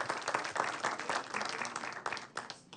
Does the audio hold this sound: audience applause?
yes